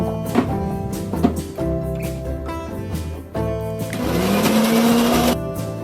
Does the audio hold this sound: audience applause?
no